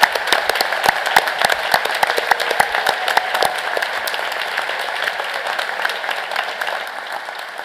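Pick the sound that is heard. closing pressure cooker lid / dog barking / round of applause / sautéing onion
round of applause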